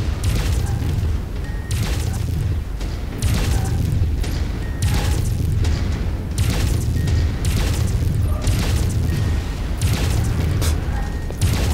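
Rapid, heavy weapon fire from mechs in MechWarrior 5 aimed at a turret, loud booming volleys repeating in bursts over a constant low mechanical rumble.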